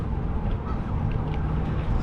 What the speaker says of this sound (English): Wow, these Canadian geese have taken over.